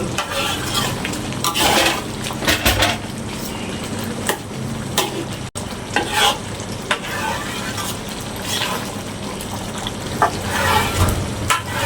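Chopped onions sizzle steadily in a pan for a Malaysian beef sambal, with repeated scraping and stirring strokes of a utensil and a brief pause midway.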